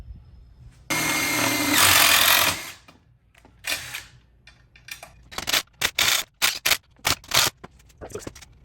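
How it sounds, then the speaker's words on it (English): A close power drill whirs in a long burst while drilling two holes in a scissor jack drill press lift table, then comes a run of short, choppy bursts as the bit bites in and stops. "I think I'm gonna drill 2 holes right here and just self-tap those into that."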